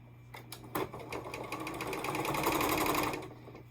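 A sewing machine stitches quilt fabric, its needle running in a fast, even mechanical rhythm that speeds up and grows louder toward the end before stopping, close and alone.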